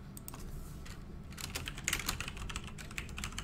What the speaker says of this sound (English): Gotta type in the names.